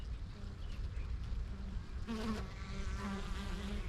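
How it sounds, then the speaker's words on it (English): Bees buzz steadily around a mild green-painted hive, a dense insect drone that swells louder near the middle as several pass close by. "The reason why I paint this hive green, and it's a mild color of green, is it helps the bees to find their home."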